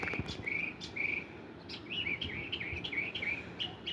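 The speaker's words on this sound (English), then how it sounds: "The birds are talking." Birds chirp outdoors on a fine day, a run of short bright tweets repeating every half second or so at moderate distance, with a faint insect-like hiss beneath and no voices.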